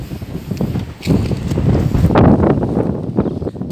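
Strong wind gusts outside a tent buffet the microphone with loud, uneven roaring bursts and rustling.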